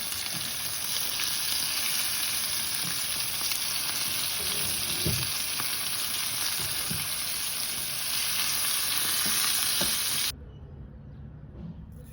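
Hake fish frying in a pan makes a loud, continuous sizzle with faint stirring clinks throughout, then drops abruptly to a quieter hiss near the end, with no speech.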